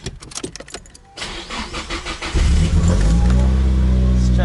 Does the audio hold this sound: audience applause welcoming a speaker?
no